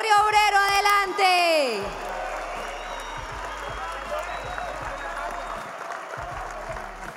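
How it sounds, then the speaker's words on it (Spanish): Crowd applause for an assistant coach at a football club's official squad presentation, a broad, steady wash of clapping that follows a burst of loud amplified talk and then carries on alone for several seconds. "que todos lo reciban con un fuerte aplauso"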